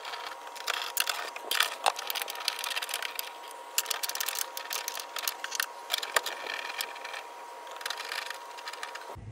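A ratchet with a couple of extensions backs out the bolts on a Chevy Equinox, giving a steady run of fast, light metallic clicks and small clinks at close range, with no talking.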